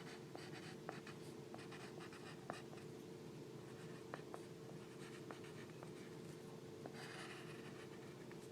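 Quiet pencil strokes scratch across paper while writing and underlining a math note, with soft intermittent scribbles and small taps over a low steady hum.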